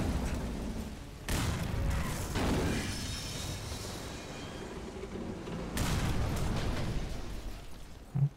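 Two heavy booming blasts in Resident Evil Revelations 2, one early and one later, each followed by a rumbling roll-off, loud and close with a game-like feel.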